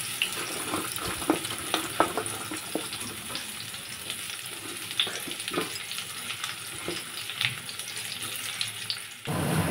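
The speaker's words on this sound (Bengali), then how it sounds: "কড়াইয়ের মধ্যে দিয়ে দিচ্ছি পরিমাণ মতো তেল, কারণ কাঁকরোল কটা ভাজার জন্য" Teasel gourd (kakrol) pieces fry in hot oil in a wok with a steady sizzle. Irregular clatters and spoon scrapes sound throughout, and a louder burst comes at the very end.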